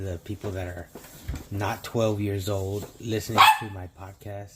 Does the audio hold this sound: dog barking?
yes